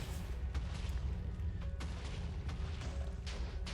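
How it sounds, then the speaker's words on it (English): Generic explosion sound effects from the video game Minecraft play as a steady, dense rumble of repeated booms and crackles, continuous and moderately loud throughout, with no speech. "just generic explosion sounds"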